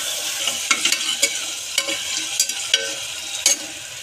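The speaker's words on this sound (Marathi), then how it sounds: "टोमॅटोलाही चांगलं 2 मिनिटे फ्राय करून घ्यायचं आहे तेलामध्ये." Tomato and onion fry in hot oil while a spoon repeatedly scrapes and knocks the pan, giving a loud, steady sizzle with sharp clacks every half second or so.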